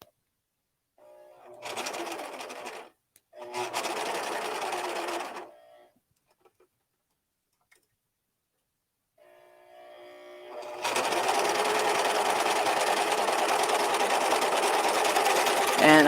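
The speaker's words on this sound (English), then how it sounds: "So I'm going to go ahead and sew this or serge this just all by itself." An Amber S100 overlock machine serging fabric, two short runs of fast mechanical whirring, a pause, then a longer continuous stretch of close, steady stitching.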